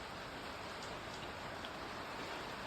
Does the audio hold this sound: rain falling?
yes